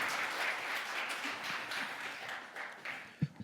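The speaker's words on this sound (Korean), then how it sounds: "여러분, 큰 박수로 다시 한번 환영해 주시기 바랍니다" Applause from a Korean guardianship conference audience welcoming a lawyer to the stage, a steady wash of many hands clapping across the room, fading out near the end with a few closer taps.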